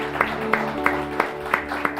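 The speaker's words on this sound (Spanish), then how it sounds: "Yo quisiera que le diéramos un aplauso a Sion." A church congregation claps in a steady rhythm, about three beats per second, each clap sharp and evenly spaced over sustained music underneath.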